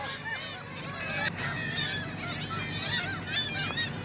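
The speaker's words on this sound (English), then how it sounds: "Seagull is a very beautiful bird found in the region of sea and ocean." Seagulls near the sea give a continuous chorus of overlapping, wavering cries, several birds calling at once at moderate distance with no voices.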